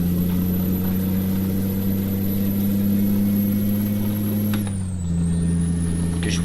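The engine of a large truck drones loud and steady in the cab with a deep hum, then dips briefly as the revs drop and settles back to a steady run.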